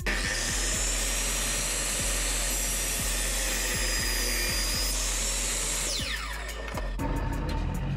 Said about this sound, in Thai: ผมจะลองทดลองแบบตัดแบบใบเลื่อยเอียงนะครับ